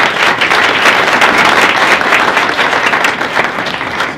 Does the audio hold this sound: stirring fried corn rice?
no